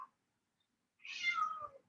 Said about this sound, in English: she misses Jojo, if you can hear the screaming of my cat in the background